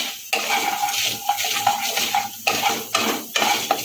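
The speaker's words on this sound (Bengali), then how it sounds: "ফোড়ন ভাজা হয়ে যাবে ততক্ষণ আমি ভাজতে থাকবো" Spices and dal being fried in a pan for tempering, stirred with a utensil that scrapes and clinks against the metal in repeated bursts over a steady close sizzle, with no voices.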